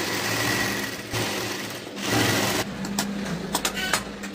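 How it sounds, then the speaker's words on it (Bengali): Sewing machine stitching a second line along an existing seam on salwar pants, a steady close whirring run with brief pauses and restarts near the end. "এর উপর দিয়ে যে চাপ সেলাই আছে ঠিক এর উপরে দিয়ে আমি আরেকটা সেলাই দেবো।"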